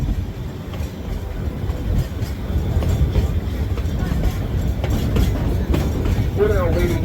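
Georgetown Loop railway train between Georgetown and Silver Plume, heard from on board while moving: a steady close rumble with rhythmic wheel clatter and occasional faint squeals, with voices talking underneath.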